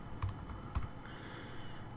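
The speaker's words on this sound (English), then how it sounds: "type in this command, npx create Nuxt app" A computer keyboard being typed on, with a few close, distinct key clicks early on and then quieter tapping over a low room hum.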